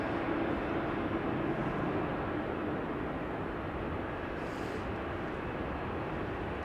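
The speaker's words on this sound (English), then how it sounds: "EasyJet A319 arriving from Geneva coming in" An EasyJet Airbus A319 from Geneva descends on the glide slope into Amsterdam Schiphol, a steady, moderately distant engine rumble with a faint tonal whine, holding level and unaccompanied by voices.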